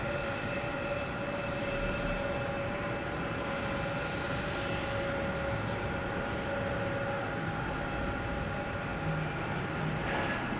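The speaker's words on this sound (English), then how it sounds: "we got the A380 doing whatever it wants to do. Most likely heading to 22 left for takeoff" An Airbus A380 airliner taxis at Boston Logan Airport, giving a steady, moderately distant jet engine whine and roar that holds level throughout.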